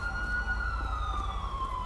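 An ambulance siren in GTA 5 roleplay wails steadily with a slowly falling tone, moderately loud over a low engine rumble, with no talk.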